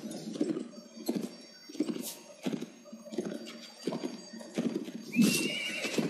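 A horse neighs repeatedly amid clattering hooves and battle noise in the Mount & Blade video game, the whinnies loud and near over a steady rhythmic gallop.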